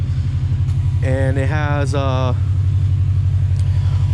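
A 2019 Subaru STI Limited with a loud exhaust idles nearby in a steady, throbbing low rumble. Someone briefly talks over it midway.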